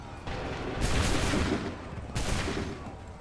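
Musket volleys in Assassin's Creed 3 roar out as two loud, broad bursts of massed gunfire about a second apart, each a dense crackling blast over continuous battle noise.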